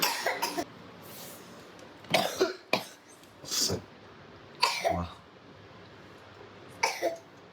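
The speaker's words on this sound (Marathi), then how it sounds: "तोपर्यंत किती खोकला येतोय" Several separate bursts of coughing from the fumes of pounded green chilli thecha, loud and close, spread out with short quiet gaps between them; no speech.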